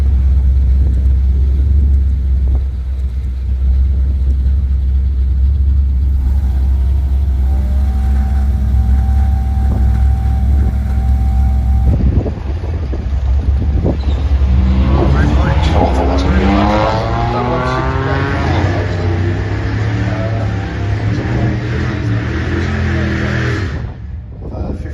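Drag race cars at the Festival of Power drag racing event roar loudly and steadily throughout, with a deep engine rumble that shifts partway through, and a commentator talking over the noise later on.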